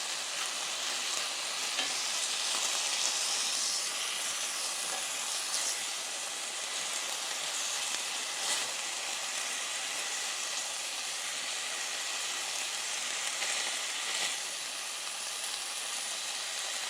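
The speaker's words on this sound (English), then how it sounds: "So all I'm doing is just browning it in the marinade that it was sitting in overnight." Cottontail rabbit meat browning in its overnight marinade in a pan gives off a continuous loud sizzle and crackle, dense and steady throughout, with no talking.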